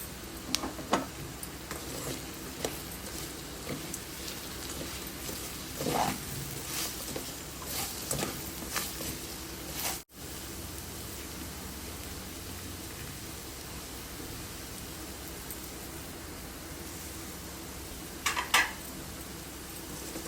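Okra pieces coated in spice powder frying in a pan, a steady soft sizzle and patter throughout with occasional clinks of a utensil against the pan, no talk.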